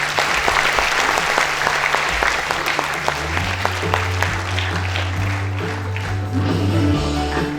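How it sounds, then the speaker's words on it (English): Loud audience applause at a school felicitation day ceremony, a thick continuous roar of clapping from a large crowd, with steady music tones running underneath. "Let us hear a loud applause."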